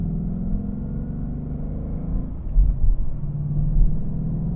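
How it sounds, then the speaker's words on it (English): Deep, rumbling V8 engine of a 2021 Ford Mustang GT Convertible idling and revving gently, with slow low swells in pitch and volume, heard up close without any talk. "Let's just rev through it"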